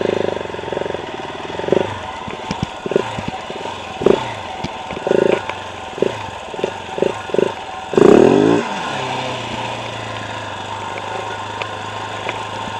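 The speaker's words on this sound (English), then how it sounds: "That's like full gas, 690 burnout right there" A KTM 690 Enduro single-cylinder motorcycle at full throttle, doing a burnout on slippery lava bedrock near a Hawaiian beach: repeated sharp revving bursts in an uneven rhythm, close and loud, ending in one longer roaring surge.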